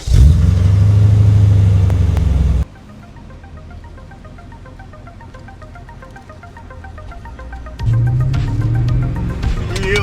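A BMW E39 M5 engine gives a loud, deep, close rumble that suddenly cuts away to a much quieter stretch with faint tonal sounds. The heavy engine roar then returns near the end.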